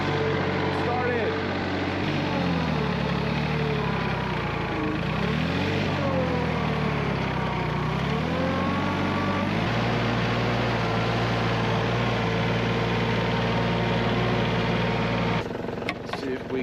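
A tractor engine starts and settles into a steady, rumbling run on a snowy day, loud and close throughout, with a person talking over it and a brief clatter near the end.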